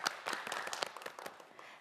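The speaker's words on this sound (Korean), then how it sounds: "큰 박수 부탁드립니다." A studio audience on a Korean TV quiz show claps briefly in a short burst of close, crisp hand claps.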